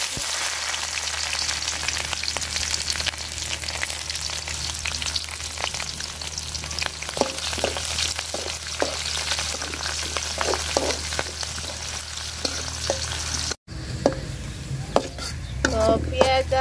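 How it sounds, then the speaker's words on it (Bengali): Chopped onion, garlic and chili fry in hot oil with a dense, continuous sizzle, punctuated by scraping stirs and spatula clatter against the pot, close and loud with no talk. "পেঁয়াজ আর রসুন সব আমি লাল লাল করে ভাজা নিচ্ছি"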